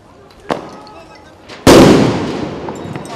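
Rubber bullets and stun grenades go off in a street riot clash between police and protesters: a sharp bang, then a much louder blast about a second later that echoes and decays, over background noise.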